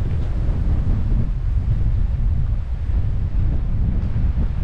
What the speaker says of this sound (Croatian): Vjetar i dalje jako puše,